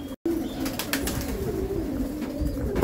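Pakistani White Bar pigeons kept in pairs in a breeding setup in Delhi coo continuously nearby, a low droning rumble with soft wing flutters mixed in.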